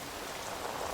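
Sprinklers spray water to mimic rain in a wet English outdoor setting, a dense steady hiss of falling droplets pattering on surfaces, continuous and moderately loud with no talking.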